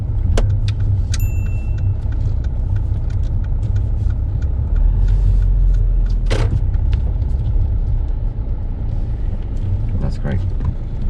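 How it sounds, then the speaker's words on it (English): A car on a UK driving test pulls over and parks on a raised curb, a steady low engine rumble throughout with small clicks and a brief thump midway, under a voice speaking. "I'd like us to pull over and park just after this car on top of the curb for me"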